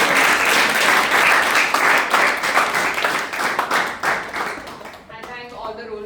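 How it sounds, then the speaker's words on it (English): An audience at an open house meeting applauds loudly, dense sustained clapping filling the space before fading out, with a voice starting to speak as the applause dies down. "Give her a big round of applause."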